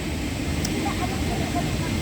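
Steady, loud low-frequency engine drone fills the cabin of a Kuwait Airways airplane, a constant rumble heard from inside with no clear speech over it.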